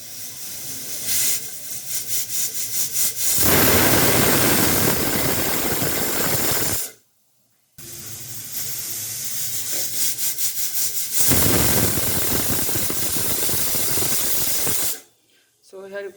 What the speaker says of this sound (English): So here you can see that 2 whistles has blown